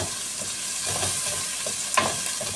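Onions sautéing in a pan for corn soup, a steady close sizzle and hiss with soft stirring scrapes and one brief louder clatter.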